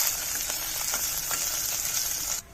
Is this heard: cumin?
yes